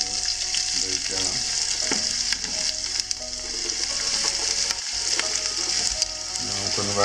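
Two sliced onions hiss and sizzle in a hot pan, a continuous close frying crackle with occasional stirring scrapes and no voices.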